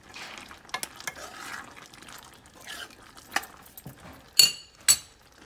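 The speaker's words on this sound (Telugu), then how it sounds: "కర్రీ రెడీ అయిపోయింది కలుపుకోవాలి కస్తూరి మేతి వేసిన తర్వాత" Chana masala curry with kasuri methi is stirred in a pan, making a soft, steady wet churning close by, broken by a few sharp clinks of the spoon against the pan.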